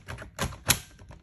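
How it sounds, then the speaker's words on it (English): Test battery snapped into a used Dell laptop, a few sharp plastic clicks and knocks close up, the loudest a crisp snap near the end. "Now let's pop this test battery in this one."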